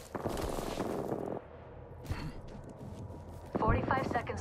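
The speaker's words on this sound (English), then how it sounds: "Opening fire." Gunfire in the Apex Legends video game, a rapid burst of shots up front, then a quieter stretch, then another loud burst, with a voice speaking over part of it.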